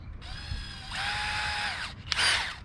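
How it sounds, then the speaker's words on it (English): A power drill with a 1/16-inch bit whirs in two short bursts, a steady mid-pitched spin followed by a brief higher whine, with faint handling noises between. "Go ahead and load this in the drill."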